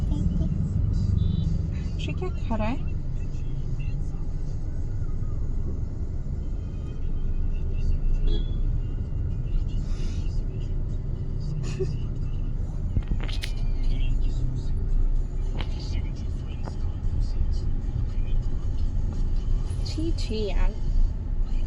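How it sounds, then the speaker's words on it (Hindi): Steady low rumble of road traffic heard from inside a moving car in heavy traffic, running continuously under close conversation and a voice. "बहुत ट्रैफिक है,"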